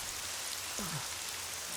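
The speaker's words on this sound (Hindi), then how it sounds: "कितनी तेज बारिश हो रही है।" Heavy rain falls at night as a steady, even hiss across the whole stretch, with one short low sweep partway through and no speech.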